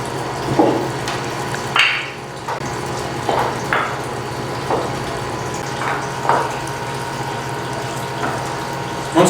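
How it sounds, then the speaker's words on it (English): A grape press is ratcheted by hand, giving a series of separate metallic clicks and clanks spaced a second or two apart over a steady background hum, close and fairly loud, with no talking. "We'll start to ratchet this by hand just to get everything set so that the blocks don't slide"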